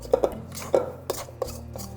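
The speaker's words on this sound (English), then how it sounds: "I'm just gonna scrape these sides." A scraper works sticky gingerbread dough off the sides of a bowl, making a handful of short, distinct knocks and scrapes in an irregular rhythm, close and fairly clear.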